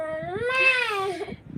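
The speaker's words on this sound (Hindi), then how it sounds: "जो ये मेरी एक बिल्ली है म्याओ म्याओ म्याओ म्याओ कर रही है" A pet cat lets out a single long, loud, wailing meow close by, rising and falling over about a second before trailing off, with no talk over it.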